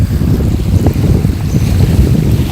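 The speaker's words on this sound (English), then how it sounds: "It might be a little windy, but it's not cold enough that the wind's really bothering me right now." Strong wind buffets a winter lake during a catfishing outing, a steady, loud low roar with gusty microphone rumble running throughout, no voices.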